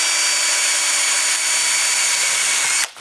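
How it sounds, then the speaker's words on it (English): A power drill drives a temporary screw into an Edea Ice Fly figure skate blade mount, its loud steady whine holding close by for nearly three seconds before cutting off abruptly. "drill in the other temporary screw on that side"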